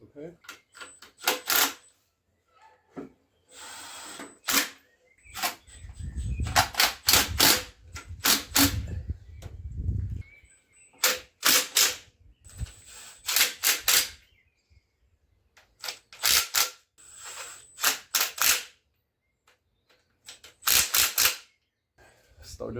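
Bolts being tightened where an engine and transmission are joined, with bursts of rapid, loud mechanical rattling from a power tool separated by pauses, close by, with occasional low sounds of handling between them.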